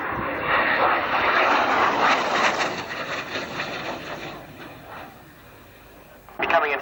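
Aircraft flying in wheels up for a landing, a loud broadband engine roar close by that holds steady then fades, with a brief burst of noise at the end.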